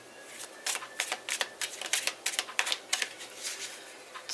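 Tarot cards shuffled by hand in a series of crisp, papery riffles and slaps, close and fairly quiet, with no talking over them.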